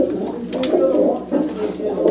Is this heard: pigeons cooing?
yes